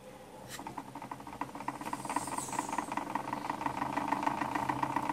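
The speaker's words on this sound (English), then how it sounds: "So let's just run the motor." A homemade Bedini motor with a trifilar coil and a rectified generator coil under load runs steadily, giving a rapid, even pulsing hum that builds slightly and stays close and alone.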